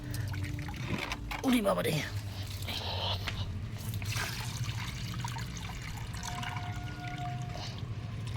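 Water poured from a container into a potted lotus outdoors, a steady trickling pour under a person's brief exclamation and talk, with a faint tonal hum later.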